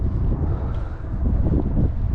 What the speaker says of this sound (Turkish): Bayağı bir rüzgar var.